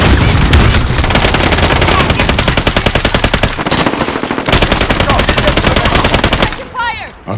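Light machine gun fire from Call of Duty in a Shoot House hardpoint match, loud sustained rapid bursts rattling almost nonstop with a short pause, ending in a few quieter game effects.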